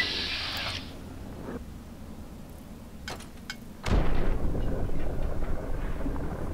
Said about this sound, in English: Totally inept grenade toss there.